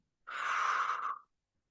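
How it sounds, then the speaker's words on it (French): A single forceful exhalation from the belly, a fire-breathing technique, sounds as a loud, close breathy rush that lasts about one second and then stops abruptly, with no voice or other noise around it. "on expulse l'air activement et l'inspiration vient naturellement"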